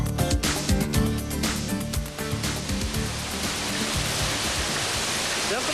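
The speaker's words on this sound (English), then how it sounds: "Look at all the water and hail rushing down the streets" Heavy hail and rushing water pour down streets in a nighttime monsoon storm, a steady dense roar of rain and runoff with sharp hail patter early on, dense and continuous throughout.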